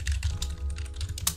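Quick typing on a computer keyboard, a close burst of crisp key clicks in rapid irregular rhythm with no talking.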